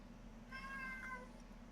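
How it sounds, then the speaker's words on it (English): A single cat meow rises briefly out of a quiet, humming background, soft and somewhat distant, with no voices around it. "you hear a meowing"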